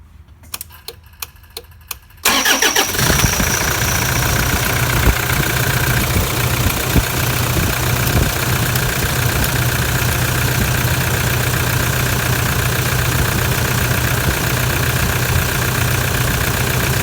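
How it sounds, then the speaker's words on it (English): A Toyota Hilux engine, unstarted for about a week after a timing belt change, turns over after a few faint clicks and catches, then settles into a loud, steady idle with a ticking rattle that runs on alone. "That engine will start, and we might as well finish off by turning the key"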